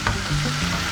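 Chopped ripe tomatoes and onions sizzle and fry in a hot pan, a steady close crackle with a brief stirring scrape and no voices.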